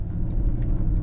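A Mercedes-AMG SLS pulls away hard from a standstill, its deep engine roar rumbling steadily and close, with a dense low growl throughout the brief moment and no talk over it.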